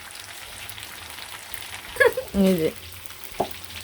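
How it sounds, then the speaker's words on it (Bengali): A roti fries in a pan in a village kitchen, a soft sizzle underneath with a few brief stirring or pressing clatters, and a short spoken remark partway through. "তারপরে যে রুটি ভাজছি"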